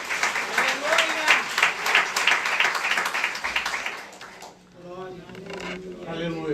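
A church congregation applauds during a service, a burst of clapping from many hands that tapers off, followed by a voice speaking over quiet room noise.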